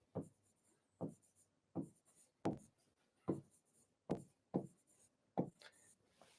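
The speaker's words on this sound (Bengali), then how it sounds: "আমি একটা সেট লিখলাম, যেই সেটটা দেখতে হচ্ছে এরকম।" Chalk or marker strokes on a board come as eight or so short, separate scratching bursts in an uneven rhythm, each a quick rub followed by a pause, close and clear with no voice.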